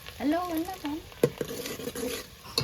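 A spoon stirs frying onions in a pan, with a few sharp clinks and scrapes and a light sizzle beneath, while a voice speaks and hums over the cooking, close and moderately loud.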